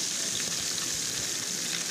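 Pieces of silver carp stirred into a thin, spicy simmering curry in a pan, a continuous close hiss and bubbling sizzle throughout with no talking.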